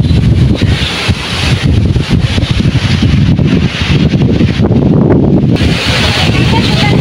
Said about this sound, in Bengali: প্রচুর বাতাস, প্রচুর বাতাস হইতেছে।